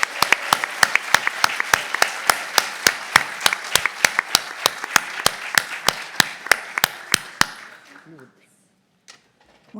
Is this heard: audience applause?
yes